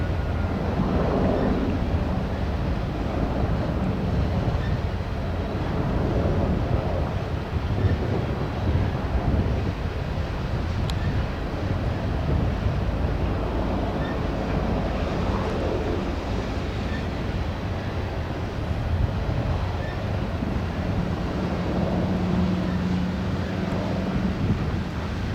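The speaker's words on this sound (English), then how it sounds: "the wind's just kind of blowing in all sorts of directions right now" Steady, gusting wind blowing outdoors near a wildfire above North Bend, seen from Boston Bar, roaring broadband and continuous at close range for the whole stretch, with no voices.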